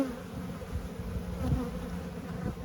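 Honeybees in an open hive, their frames showing brood and a queen, give a soft continuous buzz close by, a low steady hum without talk for a few seconds.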